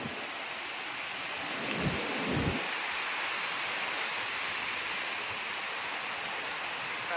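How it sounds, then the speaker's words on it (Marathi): Steady, broad rushing wind through trees on a hilltop fills the whole stretch, with a brief low rumble partway through. "वारा सुटलाय आणि झाडा बघा कसले हालता येत"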